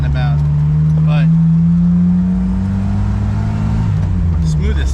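A Jeep Wrangler engine idles smoothly around 1,000 RPM after an injector upgrade, a steady low hum held close and constant throughout, with someone talking over it.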